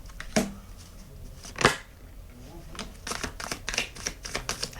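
Tarot cards being shuffled by hand, giving several quick riffling and flicking bursts that grow denser toward the end, close and fairly quiet with no talk over them.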